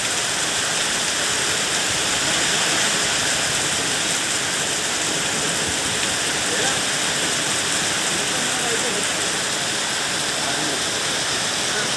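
A dense, constant roar of heavy rain pouring down beside a backwater lake, loud and unbroken for the whole stretch.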